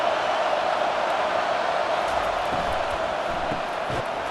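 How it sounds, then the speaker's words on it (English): A packed college football stadium crowd at a Texas at Clemson playoff game roars loudly and continuously, a dense, steady wall of cheering with no pauses. "It's early, but this crowd is fired up. Listen to this noise here."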